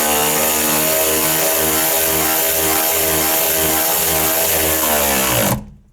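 Power tool whirring loud and close without a break while tightening a bolt on a Jeep grab handle, a steady high-pitched motor drone that cuts off abruptly near the end.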